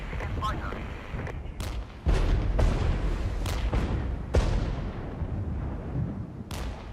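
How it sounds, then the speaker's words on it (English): Off-map artillery barrage in the Regiments wargame, a string of heavy booms and sharp blasts landing at irregular intervals over a rumbling battlefield background, some close and loud, others more distant. "This is off-map artillery coming down, plus artillery from over there."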